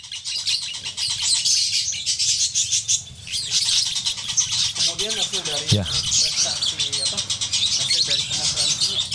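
A cucak jenggot sings with long, harsh rattling calls amid other chirping birds in a lovebird mastering room, a steady bright chatter running throughout while someone talks over it.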